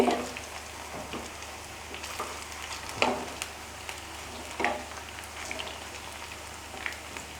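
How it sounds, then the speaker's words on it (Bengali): Prawn pakoras frying in hot oil as they are turned with a wooden spatula, a steady soft crackle and sizzle with a few sharper pops, fairly quiet and close with no voices over it. "দেখুন এগুলি কেমন সুন্দর ভাজা হয়ে যাচ্ছে"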